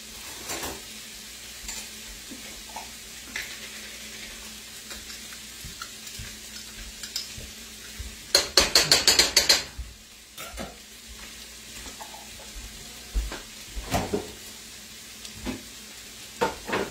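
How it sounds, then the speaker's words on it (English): Garlic sizzles and fries in a pan for goulash, a steady crackling hiss under scattered utensil clicks, with a loud burst of spattering sizzle midway as it hits the heat and smaller pops afterward. "Now let's get our garlic in here."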